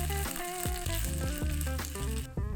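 Chopped onion, browned in oil, sizzles as grated garlic and ginger are stir-fried in for a Japanese-style keema curry; steady frying hiss runs under prominent background music.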